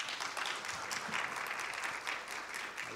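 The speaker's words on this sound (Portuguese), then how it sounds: "Por favor, uma salva de palmas para a Thaís." An audience at a health journalism talk breaks into warm applause for a guest speaker. The clapping is even and continuous, moderately loud, with faint crowd murmur underneath and no clear speech.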